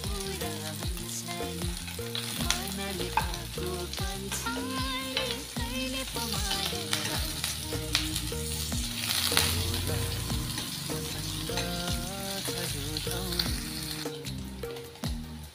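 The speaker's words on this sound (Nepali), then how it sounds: "यो चाहिँ एकदमै राम्रोसँग फ्राई भइसकेको छ" Food for a paneer and peas dish frying in a pan, a continuous close sizzle and spatter with stirring sounds, accompanied by soft background music.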